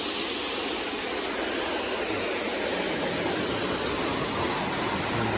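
Otso Otso Falls in Barangay Macabod, San Jose del Monte, Bulacan, swollen after rain, roars as a loud, constant broadband rush of falling water, close and unbroken throughout.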